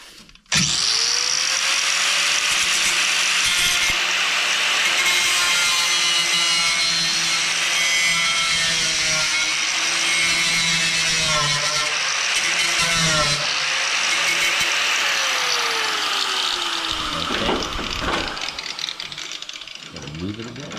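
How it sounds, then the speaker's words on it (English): Angle grinder fitted with a cutoff wheel cutting through the end of a steel J-hook on a 1964 Impala core support, a loud continuous high-pitched whine sustained for about twenty seconds with pitch shifts as the wheel bites and eases. "I'm just going to use my grinder with the cutoff wheel to see if I can just cut the end off of that J."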